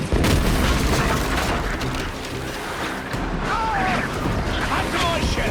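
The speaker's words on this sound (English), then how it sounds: "Heads up! Mortars!" Mortar fire in the naval battles of Assassin's Creed Black Flag: heavy booms and crashing blasts over a constant rumbling battle din, with shouted voices in the mix.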